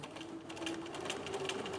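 A sewing machine runs a short continuous burst while stitching a second row of stitches along a seam, a quiet, rapid mechanical whir and tapping with no talk.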